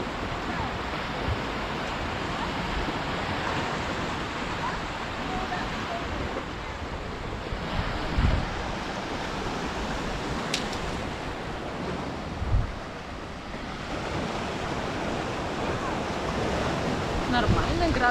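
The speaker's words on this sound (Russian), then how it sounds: "Это побережье Северного моря." North Sea waves roll and break on a Scottish beach under steady wind, a continuous loud surging roar with wind buffeting the microphone and occasional thumps.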